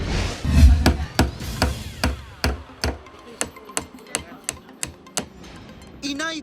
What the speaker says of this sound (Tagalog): Inay pukot, martilyo ug lansang una ang gigunitan sa 70 anyos nga si Tatay Agustin